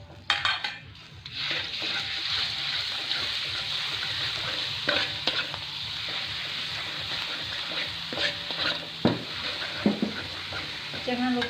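Ground Indonesian spice paste sizzles in a hot pan while it is stirred, giving a steady frying hiss broken by repeated scraping strokes and light utensil clinks.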